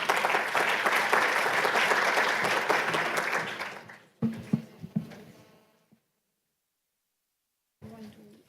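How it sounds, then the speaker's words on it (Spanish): Audience applause at a Spanish-language event welcomes a speaker, dense and loud for about four seconds, then tapering into a few scattered claps before silence and a short final burst. "damos entonces la bienvenida con un fuerte aplauso a Catherine"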